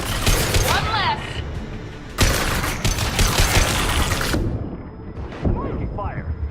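Sustained gunfire and heavy weapon blasts in the Mass Effect 2 combat game, loud and dense with bursts breaking off and restarting, while voices call out over the shooting.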